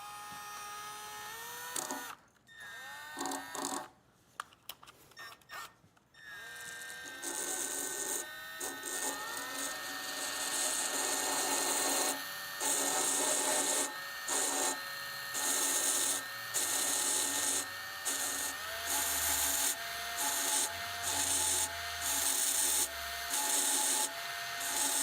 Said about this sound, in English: We're just going to sand just a little corner here.